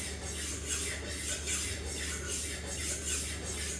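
A HORL 2 rolling diamond-wheel sharpener rasps along the edge of a Takamura R2/SG2 steel knife in close, even back-and-forth strokes, about three per second, with no voices over it.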